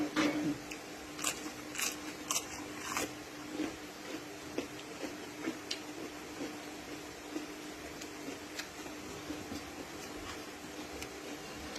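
Crisp bites and crunchy chewing of sweet raw Chinese cabbage, close up, with a run of sharp snaps at first and then steadier chewing crunches.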